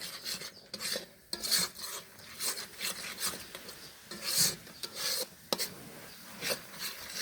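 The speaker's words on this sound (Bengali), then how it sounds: "এখন সবকিছু ভালো করে নেড়ে চেড়ে মিশিয়ে" A spoon scrapes and rubs through beef curry as spices are stirred in, making repeated rasping strokes in an uneven rhythm with a few sharper knocks against the pot, close and fairly loud.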